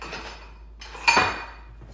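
Cabbage slaw being mixed in a bowl for a vegetarian dish, with a brief clatter and clink of utensil against the bowl near the middle of a quiet stretch.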